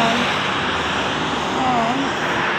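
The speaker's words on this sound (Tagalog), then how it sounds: "Ang daming natawid na sasakyan." Many cars passing steadily on a busy road, a loud, continuous roar of engines and tyres close by with faint engine whines rising through it.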